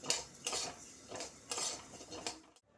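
Gobindobhog rice roasting in a pan while a utensil stirs it, giving quiet rhythmic scraping and clinking against the metal roughly every half second, close up and alone before stopping abruptly.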